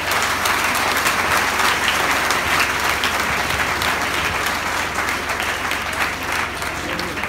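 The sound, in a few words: audience applause at a conference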